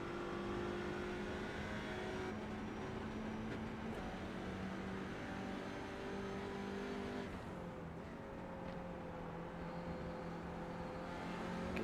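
Race car engines drone steadily at Snetterton in an iRacing simulation, a continuous low, faint engine tone with shifting pitch as the cars accelerate toward the Bentley Straight.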